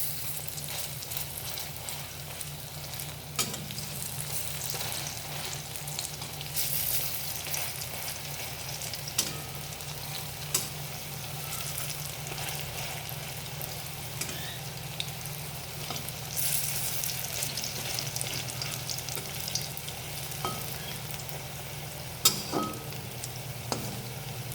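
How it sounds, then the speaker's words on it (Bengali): Drumstick flower fritters (bora) fry in hot oil in a village kitchen pan. The sizzle is dense and continuous, close and fairly loud, broken by occasional small clicks as the fritters are turned. "দেখো, এগুলো ফ্রাই হচ্ছে"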